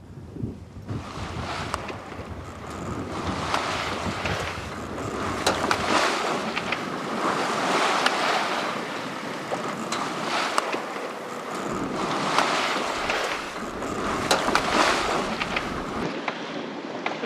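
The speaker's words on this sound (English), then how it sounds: "So that's solid wind." Strong wind roars steadily across open water aboard a sailboat on Chesapeake Bay, gusting at around 20 knots, a loud continuous rush with surging gusts and wave wash throughout, no talking.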